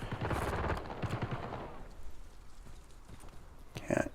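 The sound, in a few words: gunfire from a video game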